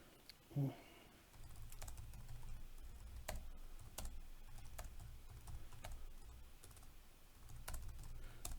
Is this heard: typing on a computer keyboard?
yes